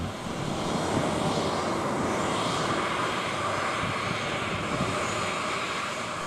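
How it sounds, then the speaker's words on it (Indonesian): A commercial passenger plane comes in to land at Mopah Airport in Merauke, its engines giving a steady, loud roar and rush that holds throughout without any talking. "Sebuah pesawat komersil mendarat di Bandara Mopah Merauke Minggu pagi kemarin."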